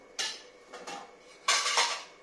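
Used cooking pots and utensils clank and rattle as they are washed, with several sharp metallic clatters in irregular bursts, the loudest near the end, close by with no speech.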